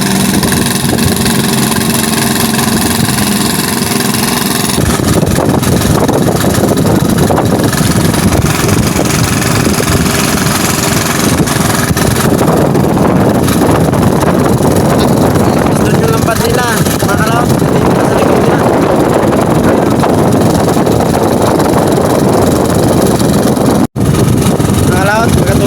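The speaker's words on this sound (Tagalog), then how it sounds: "pandang natin yung compressor mga kalaot" An engine-driven compressor runs aboard a fishing boat, a loud steady idling chug with a continuous mechanical drone, while people talk over it.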